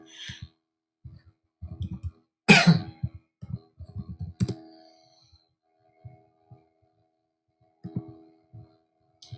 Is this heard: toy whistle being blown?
no